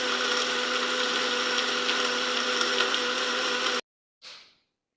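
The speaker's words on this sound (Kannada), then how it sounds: "ಎಲ್ಲದನ್ನೂ ಹಾಕಿ ಚೆನ್ನಾಗಿ ಬ್ಲೆಂಡ್ ಮಾಡೋಣ ಬನ್ನಿ" Electric blender whirring loudly as it blends jaggery and cardamom into a weight gain drink, a steady high motor whine for almost four seconds that cuts off abruptly, followed by a brief soft rattle.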